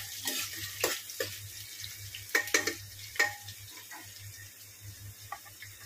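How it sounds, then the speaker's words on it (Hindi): Onions frying in hot oil with garam masala for a mutton biryani, a steady soft sizzle under a low hum, broken by several sharper clinks and scrapes of stirring in the pan. "बस हल्का थोड़ा कलर चेंज होने तक फ्राई करते रहना है"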